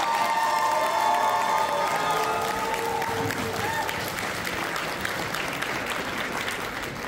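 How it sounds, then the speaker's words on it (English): Cosplay contest audience applauding and cheering for the winners, a dense, steady wash of clapping with shouts and whoops layered on top, loud and sustained throughout, with a voice speaking faintly over the crowd early on. "One more round of applause for our winners."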